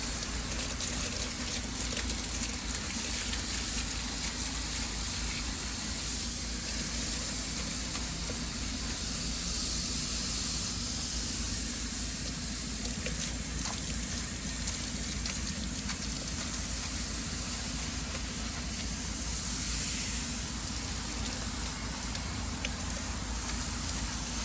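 Water from a hose sprays steadily onto a crud-caked air conditioner during cleaning, making a continuous close hiss and gush that runs unbroken for about twenty-five seconds with no talking.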